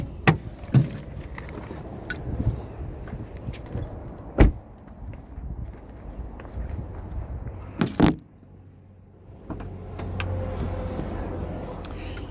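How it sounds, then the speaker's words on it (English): Popping the hood of a 2023 Acura TLX Type S: scattered clicks, clunks and a firm latch thump at the car, followed by a quieter stretch of faint handling noise around the engine bay. "Let's pop the hood in the engine bay"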